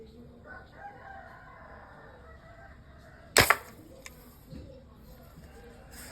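A rooster crows at moderate distance, followed by a single sharp, loud crack and a few fainter knocks, over quiet outdoor background.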